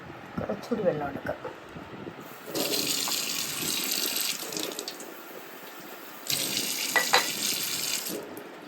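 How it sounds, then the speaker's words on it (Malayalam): Tap water runs into a vessel in two bursts during home snack preparation, a steady splashing gush, with quiet talk and handling noises between. "കുറച്ചുകൂടി വെള്ളം എടുക്കാം."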